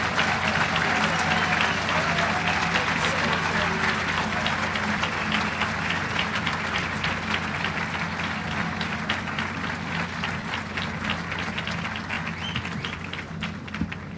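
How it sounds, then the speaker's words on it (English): An auditorium audience at a medical school white coat ceremony claps for the new medical students, a dense, sustained applause that stays loud and even for the whole stretch, slowly easing toward the end. "One round of applause for all of our students."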